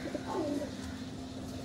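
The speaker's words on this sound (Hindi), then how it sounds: "कबूतर बड़े शौक से खाते हैं" Soft pigeon coos rise and fall once or twice against a steady low hum, faint and somewhat distant.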